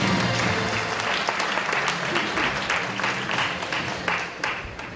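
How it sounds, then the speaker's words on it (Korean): A conference audience applauds steadily, a dense wash of many hands clapping that slowly fades toward the end. "여러분 큰 박수로 맞아주시기 바랍니다."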